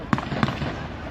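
Two sharp gunshots crack in quick succession during an exchange of fire between police and local people near Hagen, set against a noisy outdoor background.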